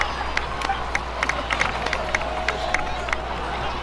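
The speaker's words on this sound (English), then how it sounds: "please give another round of applause for them" Crowd applause and cheering in the Natlan Archon Quest video game, dense steady clapping with scattered sharp claps standing out, continuous and fairly close.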